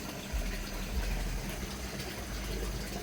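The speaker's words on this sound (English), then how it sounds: "Filling up with tap water" Tap water pours steadily into an aquarium during a water change, with a constant, bubbling rush that stays at the same level the whole time and has no voices over it.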